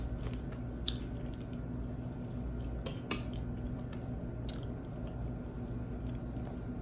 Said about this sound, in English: These walnuts are so good. Caramelized.